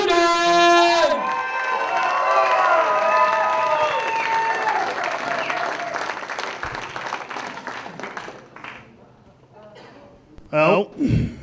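A comedy club audience claps and cheers as a comedian is introduced and walks on stage, with a host speaking over a sustained wave of applause that fades, followed by a few loud bursts near the end.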